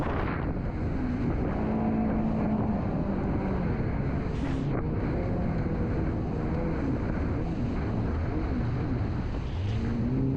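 A jet ski runs steadily while towing a surfer in big waves, its engine droning with shifting pitch under constant roaring wind buffeting the microphone and rushing water, loud and continuous throughout.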